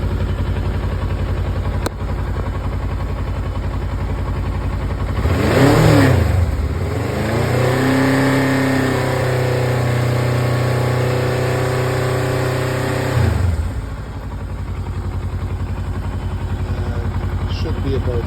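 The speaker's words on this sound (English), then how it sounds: "rev it up" A 2007 Kawasaki Versys motorcycle engine idling steadily, then revved up and held at higher speed for several seconds before dropping back to idle, loud and close.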